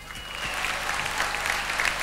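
A studio audience applauds for a singer on a television music request show, a steady, dense clapping that is close and fairly loud, lasting about two seconds.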